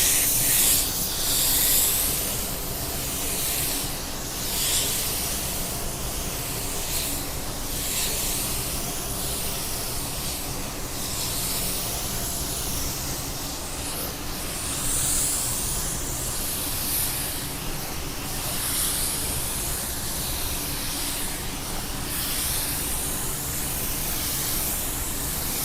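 A spray gun at 20 psi lays down a second coat of automotive clear coat, a steady close hiss that pulses in repeated passes for about twenty-five seconds with no talking.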